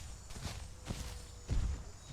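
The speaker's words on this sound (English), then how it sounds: "They were my footsteps on that rock" Footsteps on rock in the survival game The Isle, a few soft, irregular steps at moderate distance with one heavier thud near the end, no voices.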